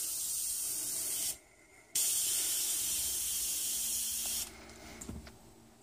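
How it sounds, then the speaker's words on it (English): An airbrush fed by a California Air Tools 2010A ultra quiet, oil-free 1.0 HP 2-gallon aluminum compressor, regulated to about 25 PSI, sprays a steady hiss of air in two long bursts separated by a short pause, fading at the end. "Got my airbrush hooked up to it."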